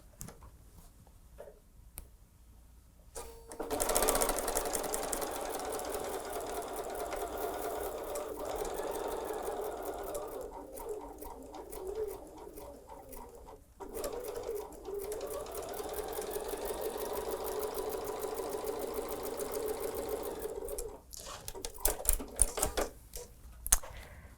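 A sewing machine stitches a fabric table runner in long, steady runs of fast mechanical rattling, pausing briefly between passes. Close and clear, with no talking.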